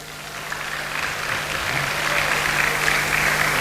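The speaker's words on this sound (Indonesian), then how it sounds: "Tepuk tangan dikit." Students at a modern Islamic boarding school give a short burst of hand clapping, a moderate, fairly even patter of many hands with a low steady hum underneath.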